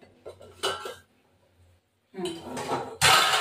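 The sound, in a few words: covering the pot of fish curry with a lid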